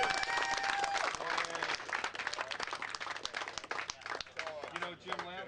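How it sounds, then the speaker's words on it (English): A round of applause for kids at a race riders' meeting, moderate clapping mixed with chatter and voices talking over it for several seconds. "Big round of applause for our kids."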